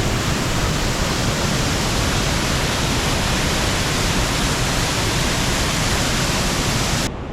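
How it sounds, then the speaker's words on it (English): Waterfalls cascading off the rocks at Rose River Falls, a steady, loud, broadband roar of rushing water that holds unchanged throughout with no voices. "Got all these amazing waterfalls coming off the rocks over here."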